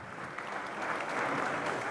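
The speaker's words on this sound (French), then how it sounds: "les applaudissements sont un peu bruyants" Audience applause at a conference panel on gender-based violence, a steady, moderately loud spread of clapping filling the short stretch without any talk over it.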